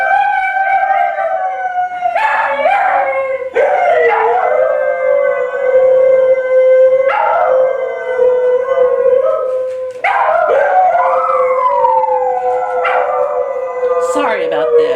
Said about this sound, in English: The dogs will be singing.